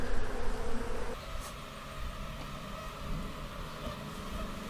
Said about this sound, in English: So there's a lot of bees on that frame.